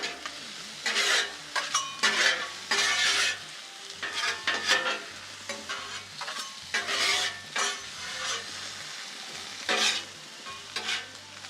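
Onions and mushrooms caramelizing in butter on a Blackstone griddle, a steady close sizzle broken by repeated scraping and stirring strokes of a spatula across the flat top, no talking.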